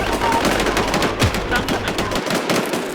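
Gunfire erupts in the online zombie survival game Infestation, with loud rapid bursts of automatic fire and sharp shots packed into a few seconds under the game's ambient sound.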